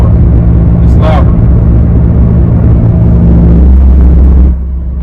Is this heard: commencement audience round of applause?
no